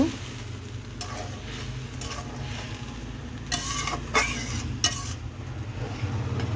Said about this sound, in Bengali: এখন আমি মাছগুলো দিয়ে দেব, সবগুলো একসাথে দিয়ে আমি একটু নেড়ে চেড়ে দেব